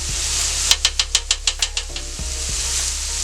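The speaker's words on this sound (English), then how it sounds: "Throw a little bit of my garlic butter in there." Bite-sized pieces sizzle in garlic butter on a Steelmade hibachi-style flat-top grill: a steady, close hiss broken by a quick run of about eight rhythmic metallic taps or scrapes, then continued frying.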